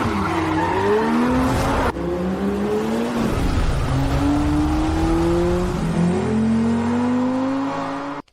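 Cars turning around sharply with tires skidding and squealing, rising engine revs and sweeping tire squeals repeating over about eight seconds, loud and close, with no talk.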